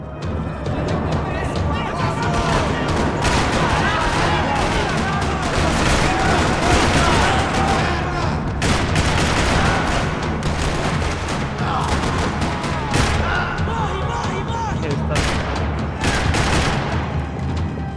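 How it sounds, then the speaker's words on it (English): Rapid gunfire echoes across a parking lot in the game Max Payne 3, bursts of automatic shots and heavier blasts packed closely together throughout, with a voice talking over the shooting. "Another parking lot rattling with gunfire."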